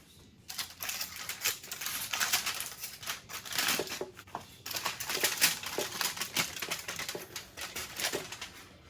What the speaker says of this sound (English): Now it's time to remove the foil.